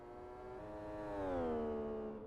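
Race car engine in the Live for Speed racing game through a fast right-hander, a steady harmonic whine that swells and bends downward midway, suggesting turbo surge, loud and alone without talk.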